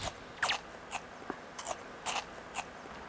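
Several crisp, crunchy bites into fresh, juicy ice plant leaves, close up, spaced irregularly with quiet pauses between, no talking.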